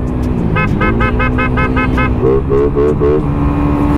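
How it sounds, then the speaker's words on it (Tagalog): Tricycle horn honking on a road: two bursts of repeated short toots, the second lower-pitched, over steady engine and traffic rumble. "Hobbs, ano to? Tricycle, tricycle"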